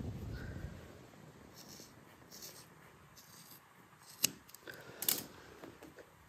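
Quiet, crisp snips of scissors cutting paper, with a couple of sharper clicks near the end over a soft, steady background.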